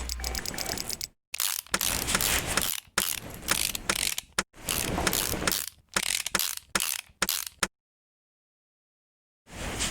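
Ratchet wrench tightening the bolts of a car engine head cover in the Car Mechanic Simulator 2018 video game, heard as loud bursts of rapid clicking broken by short pauses and one long silent gap.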